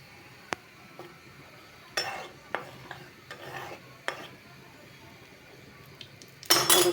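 Cumin seeds go into hot oil in a cooking pan; scattered utensil clinks and scrapes come first, then a loud burst of sizzling rises abruptly at the very end.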